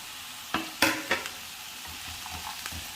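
Green chili, garlic, ginger and curry leaves sauté in hot oil with a soft, steady sizzle. A few sharp clinks and scrapes of a spoon stirring the pan come close up, with no one talking.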